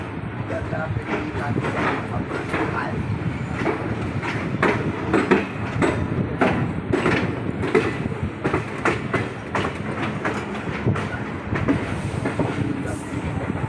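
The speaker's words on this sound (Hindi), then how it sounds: "एक हमारा डीजल लोकोमोटिव की आवाज़ आ रही है इधर से" The diesel locomotive of the 18477 Kalinga Utkal Express rolls along the rails near Nizamuddin yard, a rhythmic clickety-clack of wheels over rail joints with engine rumble, heard from aboard the train while someone talks.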